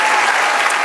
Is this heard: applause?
yes